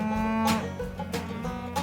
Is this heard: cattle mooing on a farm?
yes